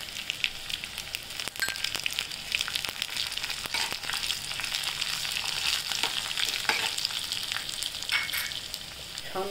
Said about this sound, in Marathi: आता आपण लाल मिरच्या टाकूया.